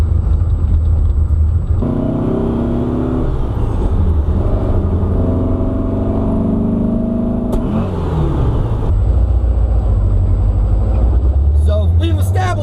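A 1973 VW Super Beetle driving with a whirring throttle bearing, its engine droning loud and close with shifting pitch as it accelerates, under steady road rumble and a voice talking.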